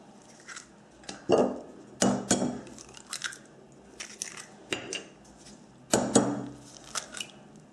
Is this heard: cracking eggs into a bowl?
yes